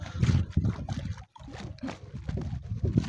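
Sea waves lap and slap against a concrete seawall on a Palawan shoreline, close irregular splashes and sloshing surges with a brief lull midway, and a voice talking over them.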